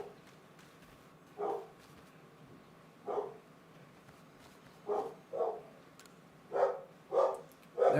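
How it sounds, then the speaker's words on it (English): Puppies bark in a series of short, separate yaps, a few sparse ones at first and then coming quicker and louder toward the end, with no talk over them. "My puppies are barking because my brother got home with her"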